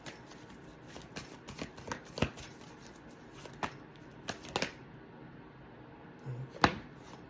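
Tarot cards being shuffled by hand, a series of soft, quick riffling snaps and taps at irregular intervals, close but fairly quiet.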